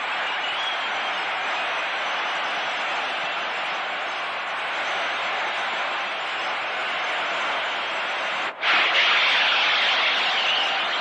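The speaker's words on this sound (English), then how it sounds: "Santiago brings this crowd roaring to its feet with a home run to the screen in left center" Dense, steady crowd roar fills a baseball stadium after a home run in the 1967 World Series Game 1 at St. Louis, Cardinals against Red Sox, holding loud and continuous for the whole stretch, swelling briefly near the end.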